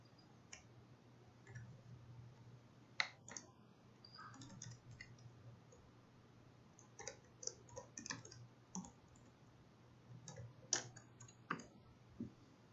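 A command being typed on a computer keyboard at a Linux command line, with scattered quiet key clicks in short bursts and pauses over a low hum, near and soft, with no talking.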